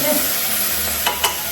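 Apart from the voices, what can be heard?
onion frying in pan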